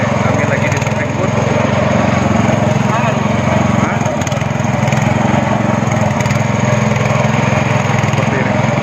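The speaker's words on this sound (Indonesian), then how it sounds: "Kami lagi di speedboat nih" Speedboat engine running at sea, a loud, constant buzzing outboard drone with a rough, rattling texture, close and continuous throughout with wind and water noise mixed in.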